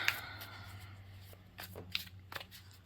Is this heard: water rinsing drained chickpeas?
no